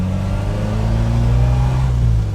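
A 1960 Lotus Elite's engine pulls at part throttle on a road drive, a steady mid-pitched drone that holds even and close for a couple of seconds with a slight rise in pitch.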